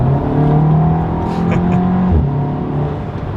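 Audi S3 or VW MK7 GTI engine with an MST Performance cold air intake held at full throttle, a loud steady engine drone running throughout with a slight pitch dip partway through.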